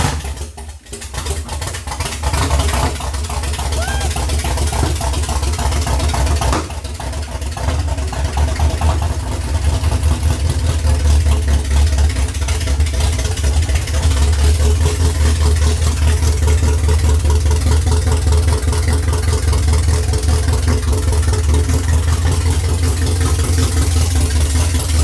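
A 57 Chevy fitted with a yacht engine idles steadily with a low, continuous rumble for the whole stretch, with a few faint mechanical clicks near the start.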